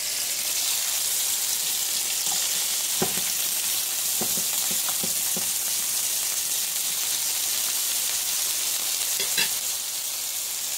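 A whole onion fries in a pan, giving a constant close sizzling hiss with scattered clicks of utensils against the pan and a few brief sputters.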